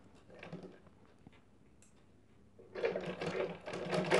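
A sewing machine stitching a blouse sleeve seam, quiet at first with faint handling noises, then a rapid, close mechanical chatter that grows louder toward the end.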